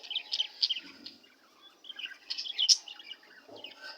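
Diamond dove chicks in a cage give soft, high chirps in scattered bursts, close and fairly faint, with short quiet gaps between the calls.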